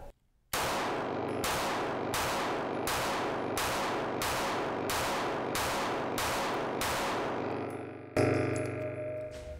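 A pistol fitted with an Icarus Precision X-Macro grip module fires about nine loud, sharp shots at a steady, fairly quick pace, each with a ringing tail, followed by a final burst of noise.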